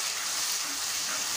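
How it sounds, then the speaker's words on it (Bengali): Spices hit hot oil with fried onions in a pan for a potato and pangas fish curry, giving a loud, steady, close sizzle with a bright hissing texture and no talking. "আমি এবার মশলাটা দিয়ে দিচ্ছি এর মধ্যে, পেঁয়াজটা ভাজা হয়ে গেছে।"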